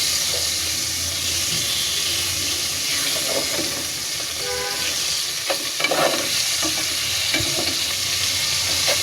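Rui fish sizzling and frying in hot oil seasoned with salt and turmeric on a stove, a steady crackling hiss with occasional stirring and spatter bursts, close and continuous with no talk.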